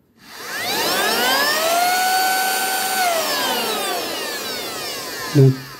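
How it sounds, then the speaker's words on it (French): A Silvercrest cordless handheld mini vacuum whirs up, holds a steady high motor whine, then winds down, ending with a short click. "pour allumer l'aspirateur, vous restez appuyé quelques secondes et il s'allume"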